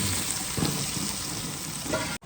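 Hot tempering sizzles steadily over jowar dhokla, a loud, continuous crackling fry close by that runs the whole stretch and cuts off abruptly near the end.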